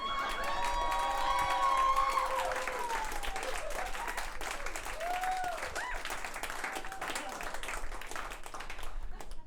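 A comedy club audience breaks into applause and cheering, dense clapping mixed with whoops and shouts from the crowd, and a voice speaking over the noise throughout.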